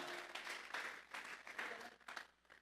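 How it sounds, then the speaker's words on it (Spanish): A Spanish-speaking church congregation at a Sunday service breaks into applause, faint, dense clapping in uneven bursts that swell and fade, heard at a distance. "Vamos a regalarle ofrenda de palmas al Dios de la gloria."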